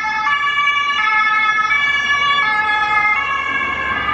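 A police car siren sounds loud and near, a steady two-tone wail alternating between pitches about every three-quarters of a second, with traffic noise underneath and no talk.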